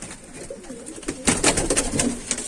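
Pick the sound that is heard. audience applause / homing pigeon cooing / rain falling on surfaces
homing pigeon cooing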